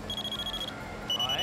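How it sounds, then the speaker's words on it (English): Two short electronic quiz buzzer tones sound one after the other during testing, the first a steady pulsing beep and the second a higher sustained tone, fairly close and loud. "Pakitest naman ang inyong mga buzzers."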